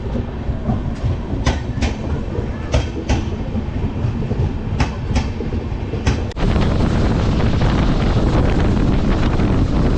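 A passenger train rumbles along at speed near Kishanganj with rhythmic clacks of wheels on rail joints, then the roar abruptly grows louder and rougher, heavy with wind.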